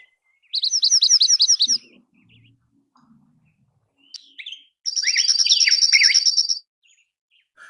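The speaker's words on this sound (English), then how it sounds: "Their songs are those high chip notes you heard as they forage." Foraging birds in a flock give bright, high chip notes in two rapid bursts, with a few softer scattered calls between them, clear and fairly close against an otherwise quiet background.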